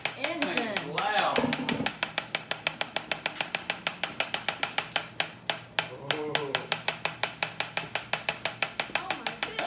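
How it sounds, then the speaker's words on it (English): A small motor fitted to a kids bike runs loud and close, firing in a rapid regular chugging rhythm with sharp repeating pops, while voices exclaim over it. "Ooh, listen to that engine."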